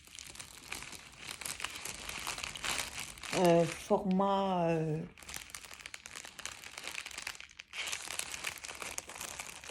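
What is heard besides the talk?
crinkling paper packaging being handled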